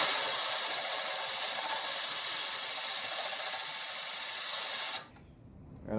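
A power drill fitted with a Ruby diamond core bit bores a hole in tile, giving a steady, bright grinding whine that runs continuously for about five seconds before cutting off abruptly into quiet.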